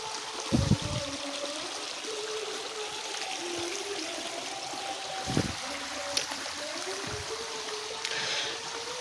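River water flows below the Suryaloco dam as a steady outdoor trickle and rush, with a few brief knocks and faint background sounds over the constant stream.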